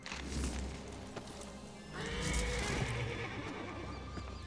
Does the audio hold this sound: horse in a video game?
yes